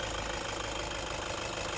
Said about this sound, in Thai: ถ้าลูกค้าฟังเสียงเครื่องยนต์นะครับ